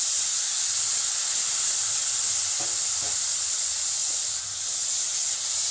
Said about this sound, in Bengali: পেঁয়াজটাকে আমি একটু ভাজা ভাজা করে নেব